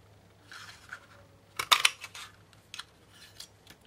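Scissors snip through paper while purple paper labels are cut out for a heart flower craft, a cluster of close, crisp cuts with one louder burst of snips in the middle and softer rustles around it.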